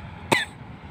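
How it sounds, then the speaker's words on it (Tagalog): A single short cough from a person with a cough, outdoors by the sea in the morning, close and fairly loud over a low background hum. "Inuubo na naman ako."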